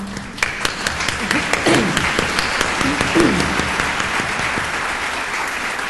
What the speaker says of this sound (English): And I believe Marilyn and Kathy, can you stand up for a round of applause?